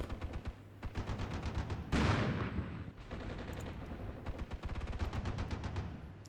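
Rapid gunfire in the tactical war game Armored Brigade II, a NATO defense of West Germany, with dense automatic bursts and scattered single shots and one louder heavy blast, continuous and fairly distant with no talk.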